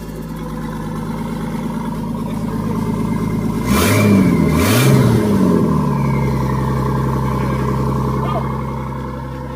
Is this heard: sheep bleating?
no